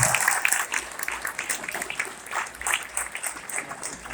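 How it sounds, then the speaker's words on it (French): An audience at a national diploma ceremony applauds the graduates, an uneven wash of clapping that swells and eases in waves, moderately loud with no voices over it. "c'est le moment d'applaudir quand même, de manifester notre reconnaissance."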